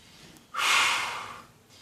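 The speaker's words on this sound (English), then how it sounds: "Grab the bar, take a deep breath" A single sharp, deep inhalation before a bench press rep, a loud airy breath lasting about a second that tails off into quiet.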